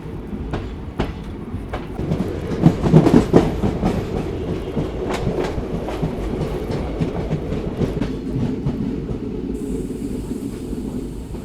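The Corbett Park Link Express runs from Jodhpur toward Jaisalmer, heard from on board as a steady loud rumble with rhythmic clickety-clack of wheels over rail joints and a faint hiss, with no talking.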